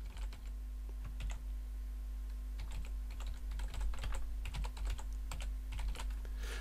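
Rapid typing on a computer keyboard, a steady run of close, crisp key clicks with irregular rhythm over a low constant hum, no voices.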